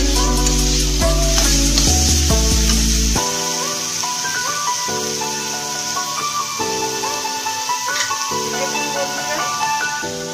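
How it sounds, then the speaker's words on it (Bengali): Chili masala is stirred into a sizzling pan of tempering for green moong dal, a loud continuous hiss and crackle with scraping stir strokes, backed by tonal background music. "দিয়ে দিচ্ছি এর মধ্যে অল্প পরিমাণে লঙ্কা মশলা। এবার এটাকে ভালোভাবে নেড়ে"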